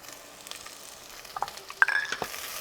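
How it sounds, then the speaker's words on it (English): Onion and garlic sauté in about a tablespoon of oil in a Dutch oven. There are soft crackles and scrapes that grow busier toward the end, with a few utensil clinks. "We're just going to saute it for a couple minutes."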